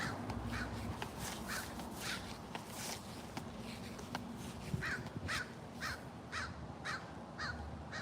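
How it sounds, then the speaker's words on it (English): Repeated harsh caws from a crow ring out in a steady series of about a dozen calls over windy outdoor rumble, fairly close and loud against the background. "He is yelling at me, this crow."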